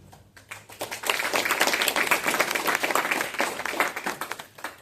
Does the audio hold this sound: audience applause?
yes